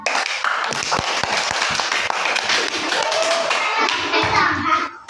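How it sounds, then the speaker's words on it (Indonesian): A class of children claps their hands, sharp distinct claps in an uneven rhythm that build into fuller group clapping, close and fairly loud, with children's voices mixed in. "coba tepuk tangan"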